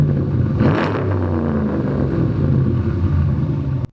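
A Dodge Ram's 5.7 V8 engine revs loudly and steadily, a deep rumble rising briefly then holding, before cutting off abruptly near the end.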